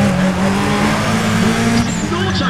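Race cars in Need for Speed ProStreet roaring loudly at speed, a dense engine drone with brief tire squeal near the end.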